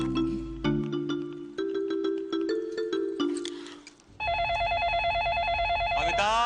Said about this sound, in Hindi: फोन बज रहा है, सुनाई दे रहा है?